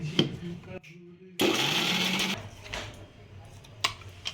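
A kitchen grinder whirs in a short, loud burst while ginger is ground into paste, surrounded by brief bits of conversation.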